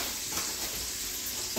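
Bacon sizzles steadily in a hot pan over medium-high heat for clam chowder, a close, continuous crackling fry with a slight clatter at the very end.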